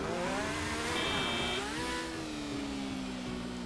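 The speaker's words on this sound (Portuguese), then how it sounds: "Cara, não tô conseguindo manter essa moto." A motorcycle ridden in GTA V Online, its game engine droning loud and steady with a rising, wavering pitch as the bike struggles for control, no talk over it.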